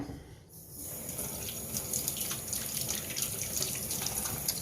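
Tap water runs steadily into a kitchen sink while food is washed during stuffing preparation, a continuous close gushing stream after a brief quieter start.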